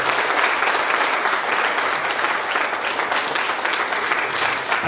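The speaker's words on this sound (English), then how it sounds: "I would like to request this enthusiastic audience to give a round of applause" An enthusiastic crowd at a Goa security conference gathering gives a loud, sustained round of applause that runs steadily without a break.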